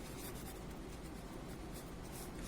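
Pen scratching steadily across paper while solving a class 6 maths problem on forming the greatest number from given digits, a faint continuous rubbing texture with no talk.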